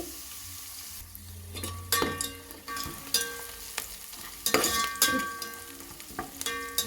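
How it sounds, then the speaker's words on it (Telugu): Onions sizzle in a hot pan for egg biryani as a spoon stirs them, with scraping strokes and clinks over a steady frying crackle, close and without talk. "ఇప్పుడు ఉల్లిపాయ వేసుకోవాలండి రెండు నిమిషాల పాటు వేగనివ్వాలండి"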